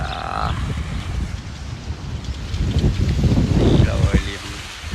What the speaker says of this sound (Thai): ลมเย็นมากๆ